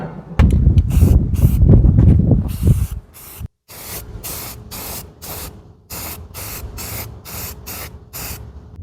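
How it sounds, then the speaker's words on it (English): Spray can shooting primer onto a rusty 1989 Chevy K1500 truck's bedside wheel well panel: a long loud hiss, then a run of short close bursts separated by brief gaps. "I always like to scuff and shoot as much as possible"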